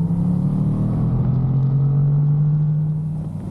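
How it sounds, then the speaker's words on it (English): A 2023 Honda Hornet motorcycle engine pulls hard under acceleration, a loud steady drone whose pitch climbs slowly with wind rush behind it, with no talking. "Although you can hear my engine giving it a good go."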